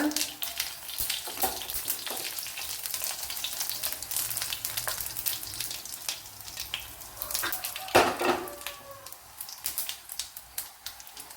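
Mustard seeds and dried red chillies sizzle and crackle steadily in hot ghee, a dense close frying hiss with scattered pops and one sharper spatter burst near the end.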